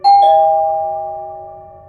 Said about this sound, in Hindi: उसकी डोरबेल रिंग होती है।